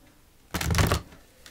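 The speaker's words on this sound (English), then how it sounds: "One more shuffle for Taurus." Gaia oracle cards being shuffled by hand in one short burst of papery riffling, fairly close and alone, with faint quiet before and after.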